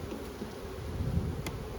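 Honey bees buzzing from an opened hive that appears to have swarmed, in an outdoor apiary during an inspection; a steady low hum continues throughout with no voices, rising slightly near the middle.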